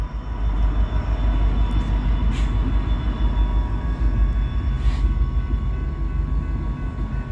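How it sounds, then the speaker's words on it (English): A Canadian Pacific oil tanker train with an SD70ACE distributed power locomotive passes with a steady deep rumble and low engine drone, sustained and fairly close. "There goes the DPU. That's a SD70ACE."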